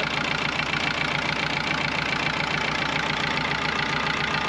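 An older International tractor engine with a rebuilt Marvel Schebler carburetor runs at a steady idle, a continuous loud, rhythmic chugging that sounds almost diesel-like, with no talking.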